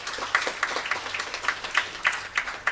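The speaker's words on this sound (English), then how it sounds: "Give a special round of applause to these teachers." A church congregation gives a round of applause for teachers at a Confirmation service, a moderate crowd clapping steadily with irregular individual claps standing out, heard at some distance in a reverberant hall.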